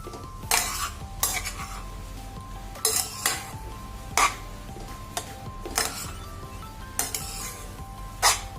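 Jaggery stirred into carrot halwa in a pan, a metal spoon scraping and clinking against the pan in a steady series of sharp strokes over a faint sizzle, close and clear with no talking.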